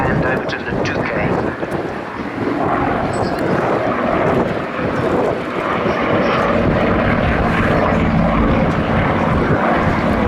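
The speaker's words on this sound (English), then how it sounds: "And we have the glider and tug taking off in front of us." A glider and its tug aircraft take off at an air show, the propeller engine droning loud and steady throughout.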